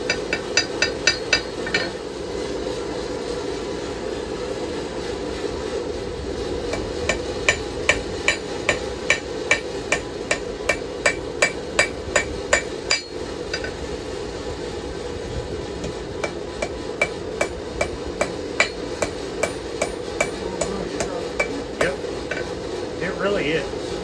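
Hot knife blade forged by hand with a 3.5 pound hammer: a steady series of sharp, ringing metallic strikes on the anvil, evenly paced with short pauses between bursts, close and loud over a constant forge roar.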